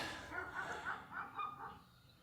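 Dogs bark outside in the early morning, a few faint, distant yelps and barks in a quiet setting.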